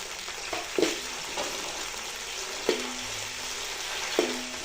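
Tomatoes softening in hot oil for chicken biryani give a steady, close sizzle and crackle, broken by a few soft stirring knocks from a spoon against the pan.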